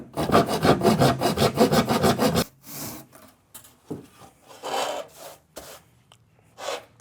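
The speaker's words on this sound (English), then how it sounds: "we're going to be using a pruning saw, and we're going to be cutting to duplicate the same kind of joint that we have on both sides" A pruning saw cuts a joint in foam: fast, steady back-and-forth rasping strokes for about two seconds, then scattered scraping and rubbing sounds with pauses, close and fairly loud, no talk.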